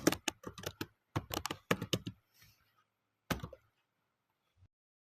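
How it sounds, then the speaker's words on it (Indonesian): Keys clatter on a computer keyboard as an IP address is typed: two quick bursts of close, crisp keystrokes, a pause, then a single short cluster and one last faint tap. "IP-nya kita coba juga ketik"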